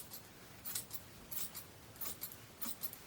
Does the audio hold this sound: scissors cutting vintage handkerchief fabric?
yes